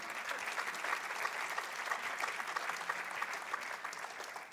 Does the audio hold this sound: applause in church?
yes